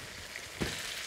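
Beef stir-frying in a very hot wok, a steady sizzling hiss throughout with a brief louder burst of crackle as food is tossed midway, close and alone without voices.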